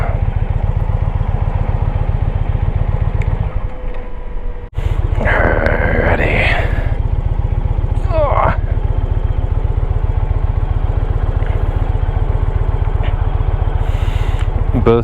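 A motorcycle engine runs steadily up close during a highway ride, a loud, even low thrumming that persists throughout, briefly interrupted by handling noise and wind rustle midway.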